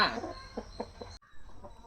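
Chickens cluck in a series of short, rhythmic calls at moderate distance, a brief gap interrupting them, with faint farm background hum; the birds are Aseel fowl, the flock suffering from the chest disease called mar chukka.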